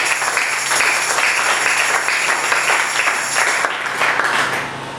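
Church congregation clapping together for the Lord during a French sermon, a steady dense wash of hand claps that stays loud throughout and thins slightly near the end.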